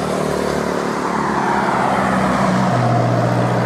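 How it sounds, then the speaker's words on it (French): Cars travel along a French departmental road in a loud steady rush of traffic, with engine tones rising and falling as vehicles pass close by, and no talking. "Les voitures."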